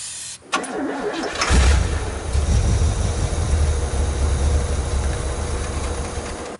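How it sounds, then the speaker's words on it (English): A 1986 Oldsmobile Cutlass engine cranks briefly on starter fluid, catches, then runs loud and steady up close with a rough, rumbling idle for several seconds. "This thing runs surprisingly well on starter fluid."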